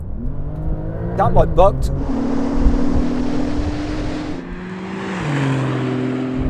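A Porsche 911 Turbo S floors it from about 50 mph in a drag race on a runway, a steady rising engine roar with wind noise, while someone talks over it near the start.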